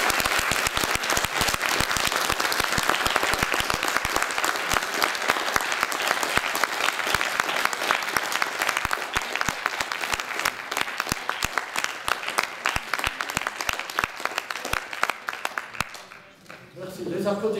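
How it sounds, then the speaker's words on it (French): A lecture audience applauds a professor after a talk on the Middle Ages, loud dense clapping sustained for a long stretch before fading out at the end. "Les applaudissements sont peut-être de courtoisie"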